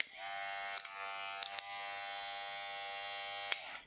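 An unmodified original AliExpress hair clipper hums with a quiet, even electric buzz throughout, broken by a few faint clicks.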